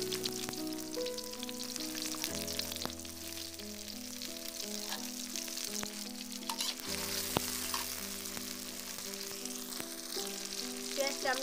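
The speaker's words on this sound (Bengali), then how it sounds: "আমরা হালকা ভেজে নেব" Chopped garlic, onion and green chilies frying in oil in a pan, a steady close sizzle with occasional stirring scrapes, heard under music playing throughout.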